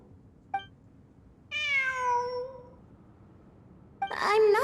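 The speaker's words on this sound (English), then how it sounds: "It really is a cat." A cat meows in the Genshin Impact video game, one faint short mew followed by a long, clear drawn-out meow and then a louder wailing cry, alone against quiet background.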